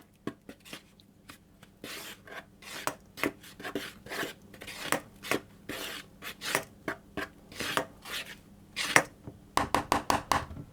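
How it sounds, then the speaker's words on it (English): Salt, caraway seeds and chopped onion being stirred around a bowl for rye sandwich bread, heard as a steady run of close scraping, rubbing strokes that quicken into a burst of rapid scrapes near the end. "salt, caraway seeds and onion into a bowl, and I'm just going to give those all a good stir around."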